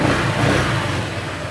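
A Honda ADV motorcycle engine runs steadily after a camshaft repair, giving a loud, even mid-to-low drone with a slight rev swell near the start and no talk over it.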